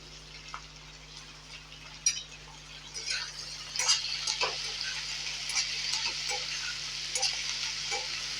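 Chopped green and yellow chillies with cut vegetables frying in a pan for chilli garlic vegetables, a soft steady sizzle with light stirring clicks and scrapes, fairly faint and close.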